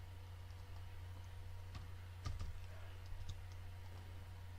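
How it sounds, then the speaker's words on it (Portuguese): Values being typed on a computer's numeric keypad, heard as a few faint, sparse key clicks over a steady low electrical hum. "ou ainda está digitando os valores pelo teclado"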